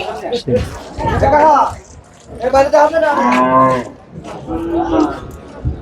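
Cattle moo loudly and repeatedly at a rainy livestock market where cows and buffalo are brought for sale, with drawn-out calls close by and a murmur of voices around them.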